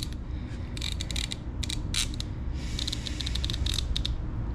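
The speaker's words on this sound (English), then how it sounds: "slide your socket right on there, pull it out" A socket wrench working loose a spark plug on a motorcycle, giving a steady run of close, faint ratcheting clicks and creaks over a low background hum.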